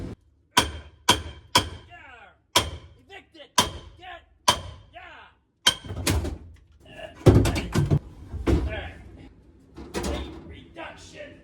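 Series of sharp metallic whacks from a hammer striking a roll cage bar in a Pontiac Grand Prix, about a dozen blows at irregular intervals, loud and close, with brief voice sounds between.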